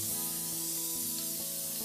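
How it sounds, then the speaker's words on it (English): A continuous, loud aerosol spray of Elmer's spray adhesive hisses close up, with a low steady hum underneath. "I'm first going to use my Elmer's spray adhesive, which sticks to foil"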